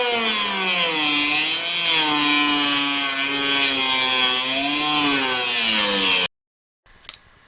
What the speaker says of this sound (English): Alright, I'm going to try and get some of this with a cut-off wheel.